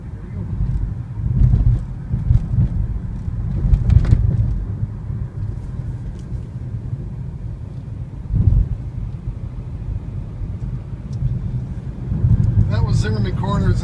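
BMW i3 electric car cruising at about 65 mph on a test drive, with steady road and wind rumble inside the cabin and a few louder gusts and bumps, alongside some speech.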